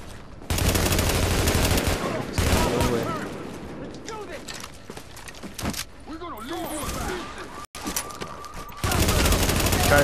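Sustained assault-rifle fire in The Division's Dark Zone, with long loud bursts of rapid shots opening and closing the stretch and scattered shots and game effects between, while someone talks over part of it.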